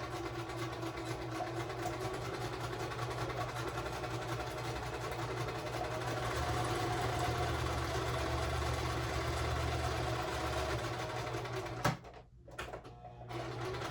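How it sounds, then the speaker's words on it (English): A steady mechanical whir of a sewing machine zigzag stitching continuously for several seconds, then stopping abruptly near the end. "This is a different sewing machine that I've been used to, but I kind of like it."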